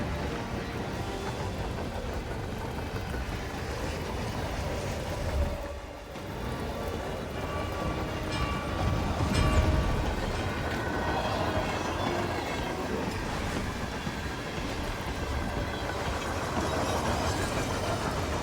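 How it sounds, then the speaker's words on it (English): A moving train in the Hitman video game rattles along at moderate volume, a continuous clattering rumble with faint wheel clicks and a brief lull midway. "On a moving train."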